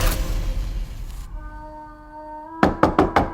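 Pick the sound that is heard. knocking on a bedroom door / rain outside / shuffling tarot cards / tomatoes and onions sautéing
knocking on a bedroom door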